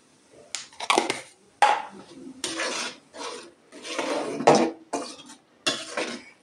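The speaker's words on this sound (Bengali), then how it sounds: "এখন আমি ঢাকনা দিয়ে ঢেকে রাখছি" A pot lid scrapes and clanks onto a cooking pot of lentils on a stove, with several close metallic rubs and knocks spread over a few seconds.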